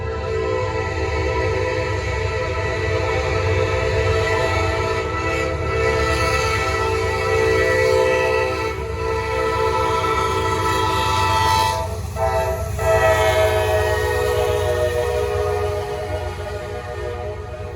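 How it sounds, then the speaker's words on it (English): A heavy Norfolk Southern freight train, symbol NS052, rolls past in Gaffney, South Carolina, with a loud, sustained rumble and a steady droning tone that persists throughout, with no voices. "They got a heavy train today too."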